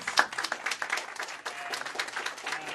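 A crowd applauds a panel steadily, many hands clapping in a dense, sustained wash of sound that holds level throughout.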